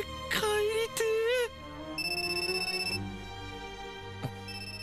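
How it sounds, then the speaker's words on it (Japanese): Mobile phone ringtone chiming in short bursts of tonal electronic notes, fairly close, followed by a sustained electronic tone, with voices nearby. "携帯うっせぇよ"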